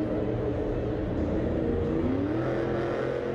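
A Monster Jam monster truck at Lucas Oil Stadium in Indianapolis roars through a slap wheelie, its engine a loud, continuous low growl with a rising revving tone, heard from a distance over arena noise.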